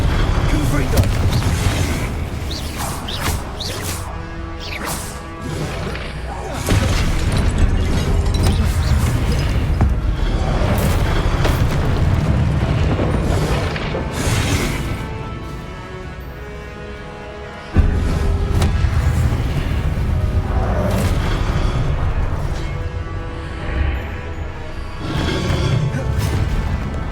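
Confringo fire spells blast repeatedly in Hogwarts Legacy on PS5, loud booming crashes layered over a dense, continuous game soundscape with sudden sharp impacts.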